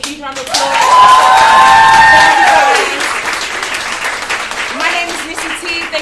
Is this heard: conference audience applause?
yes